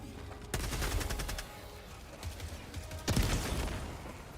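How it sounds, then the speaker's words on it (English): Recoilless rifle fire in Helldivers, heard as two separate loud blasts roughly two and a half seconds apart, each one trailing off into rumbling game noise without voices. "Recoilless rifle."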